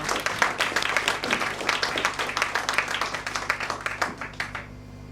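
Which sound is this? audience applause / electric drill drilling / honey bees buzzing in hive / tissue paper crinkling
audience applause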